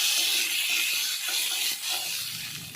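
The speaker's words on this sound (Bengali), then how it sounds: "প্রথমে নিম পাতাটা দিয়ে দিলাম তেলের মধ্যে" Neem leaves dropped into hot oil in a home kitchen pan hiss and sizzle loudly and steadily, a bright spitting crackle that eases slightly toward the end.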